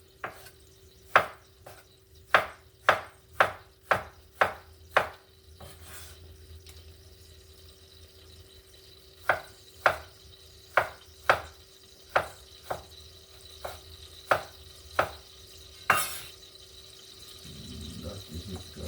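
Garden seasoning for a Jamaican dish being chopped on a board with a knife, sharp close knocks in quick steady runs with a pause midway, over a faint background hum.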